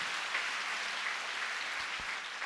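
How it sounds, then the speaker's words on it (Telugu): A church congregation at a live prayer service in Nandyala claps with both hands raised in praise, producing a steady, dense wash of applause that holds evenly throughout without any voices. "నమ్మిన వారు 2 చేతులు పైకెత్తి చప్పట్లు కొట్టి ప్రభుని స్తుతించండి"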